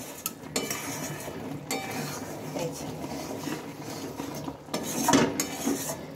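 A spoon scrapes and clinks steadily against a bowl as a single spice mix is stirred into a sweet, sour and spicy mango pickle, with a louder burst of clinking near the end.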